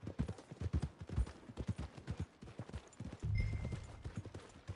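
A horse's hooves clip-clop in Red Dead Redemption 2, a steady trotting rhythm of crisp, close hoofbeats that briefly thickens into a denser rumble near the end.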